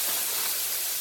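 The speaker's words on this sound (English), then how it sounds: "Into the skillet that we just got through frying the sausage in, we're going to add in the Trinity mix" A frozen Trinity vegetable mix sizzles in a skillet still holding the fat from frying sausage for gumbo, giving a steady, loud, continuous hiss with no pauses.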